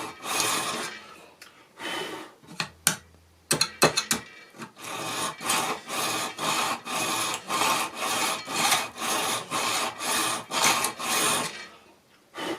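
Hand file worked across a model railway turnout rail with deliberate strokes, a few scattered scrapes giving way to a steady rhythmic rasp of about a dozen even back-and-forth passes, close and clear without speech.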